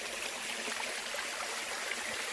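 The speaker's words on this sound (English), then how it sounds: "I come up on this lovely little falls here" Continuous rushing of water from a small creek waterfall at Shades State Park, Indiana, steady and moderately loud with no breaks.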